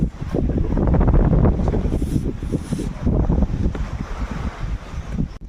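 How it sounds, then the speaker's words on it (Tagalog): Strong wind buffets a fishing boat at sea, roaring gusts blasting the microphone with rumbling low noise and water sloshing, loud and uneven with brief lulls. "Masyado malakas yung hangin."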